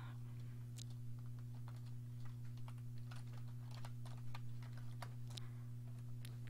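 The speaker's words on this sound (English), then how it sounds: "Weird typing." Quick, irregular clicks of typing on a computer keyboard at a desk, close and fairly faint over a steady electrical hum, with no talking.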